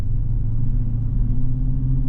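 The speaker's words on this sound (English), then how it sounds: "we are on the road in this 2023 Dodge Challenger" A 2023 Dodge Challenger R/T with the Hemi V8 and T/A package cruises down the road, heard from inside the cabin as a loud, steady, deep engine rumble with road drone.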